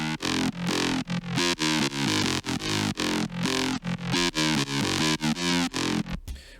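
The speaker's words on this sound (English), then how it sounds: "So if I bypass LFO 2 and just leave LFO 1 on there," A synth patch modulated by LFO 1 alone, with LFO 2 bypassed, plays a loud, distorted, rhythmic sequence of chopped chords and notes that stops abruptly near the end, with no talking.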